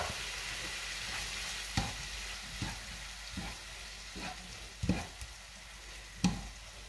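A gozleme filling with tomato purée sizzles steadily in a pan, a constant frying hiss broken by a few soft stirring knocks, close and moderately loud with no talking.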